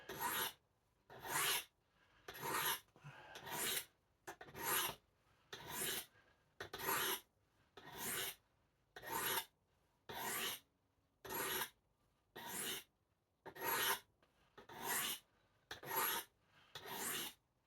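A file rasps across the metal of a recurve blade being sharpened, in even, rhythmic strokes, about a dozen passes with short quiet gaps between each.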